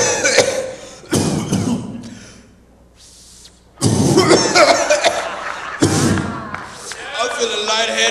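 A stand-up comedian fakes a cough on stage with a few sharp bursts between stretches of his talking, a voice imitating a sick cough.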